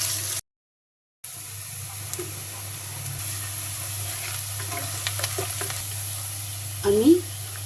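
Chopped onions sizzle steadily in hot oil in a pan for a duck curry with coconut milk, with a brief dropout to silence near the start and a few light stirring clicks and scrapes.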